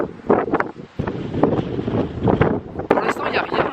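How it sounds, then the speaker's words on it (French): Gusty wind buffets the microphone at a high viewpoint overlooking a city, rough and close, with someone talking through it. "Il y a un peu de vent, hein, je m'excuse."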